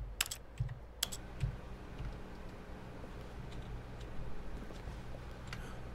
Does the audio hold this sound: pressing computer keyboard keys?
yes